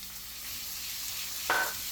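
Onions fry in a pan for a vegetable puff filling, a quiet steady sizzle that flares into a brief louder hiss near the end.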